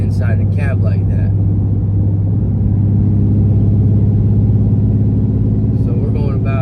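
Low, steady rumble of a modified Ram 2500 Cummins diesel pickup engine cruising at about 75 mph while towing a large camper, droning throughout with a person speaking briefly at the start and end.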